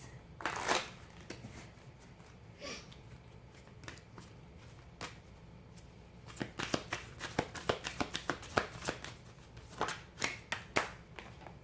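Tarot cards being shuffled by hand in a quiet room: close, crisp riffles and flicks, sparse at first, then a quick run of snapping bursts toward the end.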